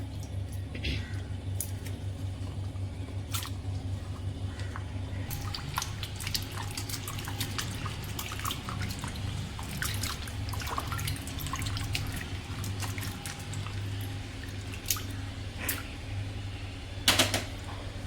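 Sliced potato sticks are scooped into a bowl of water, giving scattered drips, small splashes and wet clicks over a quiet kitchen background, fairly faint and with no talk.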